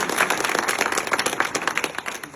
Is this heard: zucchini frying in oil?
no